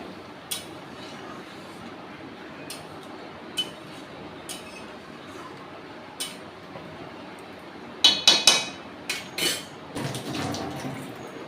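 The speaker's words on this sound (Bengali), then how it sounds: "এবার আমি নেড়ে চেড়ে খুব ভালো করে মিশিয়ে দেবো" A spoon stirs egg curry in a pot after hot water is poured over fried potatoes, in a Bengali low-oil kitchen; sparse metallic clinks at first, then a cluster of louder scraping knocks against the pot near the end.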